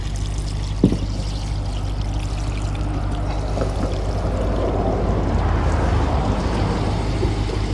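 Water poured over the outside of a 2015 BMW 650i xDrive during a leak test for water getting into the rear seats, a close, steady splashing stream that keeps running with one small knock near the start.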